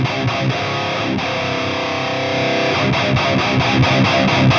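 An electric guitar played through a Headrush PV Valve King lead amp model gives a dense, distorted, sustained tone. Choppier palm-muted strikes follow in the second half, loud and alone.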